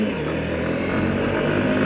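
A Hero Hunk 160R motorcycle engine, 2021 model, accelerates on a test ride, a steady close mid-pitched drone holding an even level throughout.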